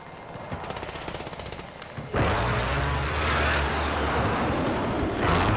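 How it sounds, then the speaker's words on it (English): Airstrike in Call of Duty: Warzone, a sudden loud blast of heavy gunfire and explosions that crashes in about two seconds in and rumbles on densely to the end, over earlier lighter battle noise. "I just put an airstrike there."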